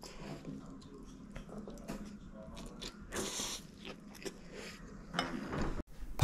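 Green onion kimchi being bitten and chewed during a meal of bibimbap with fried egg, with close, wet, crisp crunches and steady chewing and a little quiet talk in the background.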